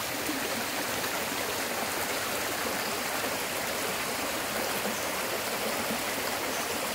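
A small forest stream flows steadily through a nature reserve near mangroves in Ilhéus, Bahia, making a continuous, even rush of water close by with no voices.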